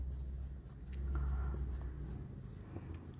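Pen or marker writing an accounting entry, a soft continuous scratching of strokes across a surface, close and steady over low room hum.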